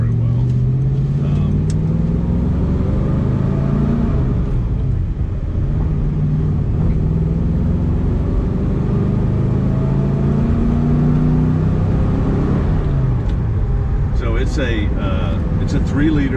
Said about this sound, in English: It's a 3-liter V8.